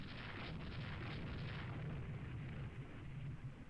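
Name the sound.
naval ship guns firing in Rule the Waves II video game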